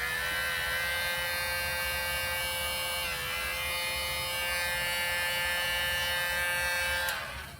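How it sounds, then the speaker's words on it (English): A heat gun blows a steady, close whirring hum over a hinge on a 30cc Spitfire model aircraft aileron, running alone without talk until it winds down at the end. "I put a little dab of Vaseline on the hinge, and I run the heat gun over it a bit."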